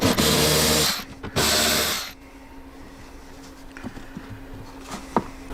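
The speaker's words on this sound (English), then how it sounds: "Once we remove these two screws with the Torx 15, we pull this out" A Torx 15 driver backs screws out of an Advanblack 6x9 speaker lid on a motorcycle saddlebag. Two loud whirring bursts come close to the microphone, followed by faint clicks and ticks of parts being handled.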